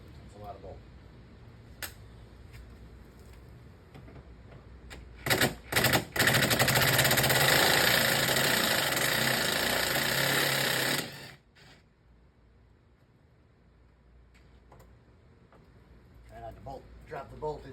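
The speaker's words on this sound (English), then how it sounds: "Try the impact drill again. It's a lot of bolt." An impact drill hammers at bolts inside the driver's door of a 2019 Ram 1500 during window replacement, with a few short bursts followed by one sustained loud rattling run of about five seconds, close by, with some background voice.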